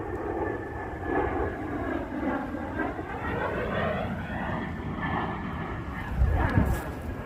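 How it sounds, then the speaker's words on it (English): A Learjet jet aircraft passes overhead at a street intersection, giving a steady, loud roar that sweeps in pitch as it crosses the sky, with a brief louder thump near the end. "Oh, here comes the jet. Hear it?"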